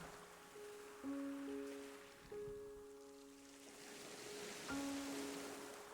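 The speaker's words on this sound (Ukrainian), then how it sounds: "Прислухайтесь до ритму хвиль." Soft Black Sea waves wash in on the shore at a slow rhythm, with gentle sustained tones of calm music ringing over them.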